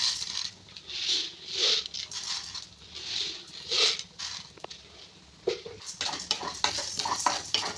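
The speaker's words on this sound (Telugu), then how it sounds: "కలపెట్టుకోవాలి మాడిపోకుండా." A pan of lentils and split gram dry-roasting for a village-style curry leaf spice powder is stirred with a utensil, giving soft repeated scrapes and rattles of dry grains against the metal, fairly close and steady throughout.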